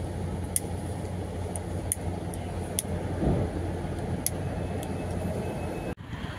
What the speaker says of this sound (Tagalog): Ayan na yung tren, Mag-G.